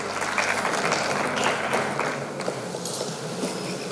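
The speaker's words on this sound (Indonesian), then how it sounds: "Kasihkan tepuk tangan yang meriah bagi Tuhan kita." A church congregation applauds during a live worship service at ROYAL Surabaya. Dense, loud clapping fills the room at first, then thins out and fades over the last couple of seconds.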